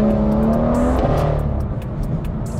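A BMW M2 running a stage 2 tune accelerates hard in second gear, its engine note rising loud and steady from close by before easing off near the end.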